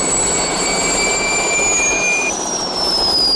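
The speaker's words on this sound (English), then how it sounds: "I'm over the Thames now, Strange" A propeller airplane engine flies low over the Thames, a loud, steady roar with descending whining tones throughout, the pitch gradually dropping as the aircraft passes close by.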